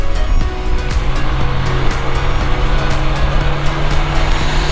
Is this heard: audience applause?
no